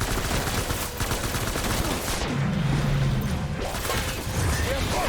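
Rapid gunfire from a weapon in the video game Death Stranding, sustained bursts of shots running throughout at steady loudness, with a brief lower rumble in the middle.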